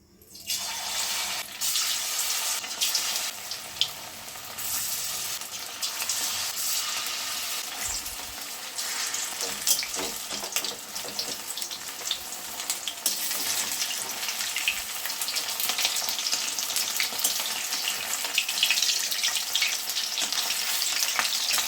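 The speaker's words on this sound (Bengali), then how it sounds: "আমি এখন পনিরগুলোকে ভেজে নেব।" Paneer pieces fry in hot white oil in a wok, giving a loud, dense, continuous sizzle that starts abruptly and holds steady throughout, close up and free of speech.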